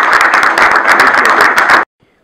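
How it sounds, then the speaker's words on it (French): An audience at a university assembly electing a new office gives a short burst of dense, loud clapping that cuts off abruptly after about two seconds. "Sous vos applaudissements."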